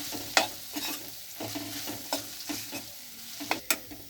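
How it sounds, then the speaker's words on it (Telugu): Raw banana pieces coated in chili powder and salt fry with onion pieces in a pan, giving a soft steady sizzle broken by repeated scraping and clattering strokes of stirring, with no voices. "అరటికాయ ముక్కలు ఈ నలుపుకున్న కారం ఉప్పు కలిపేసినవి ఉల్లిపాయ ముక్కలు వేసి ఇలా వేయించుకోవాలి."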